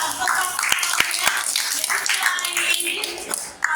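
A classroom of students clapping their hands together, a burst of sharp overlapping claps ringing out near and fairly loud, with a few distinct strong smacks standing out above the steady patter.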